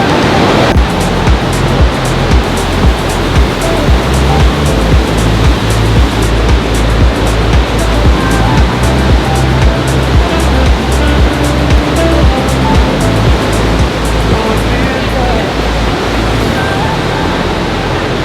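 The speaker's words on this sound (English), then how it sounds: "we actually took a staircase down to the riverbed where you can go right up close to the river" A river in Ouray, Colorado rushes at the foot of a waterfall in a loud, steady roar of water heard from up close on the riverbed, with no voices.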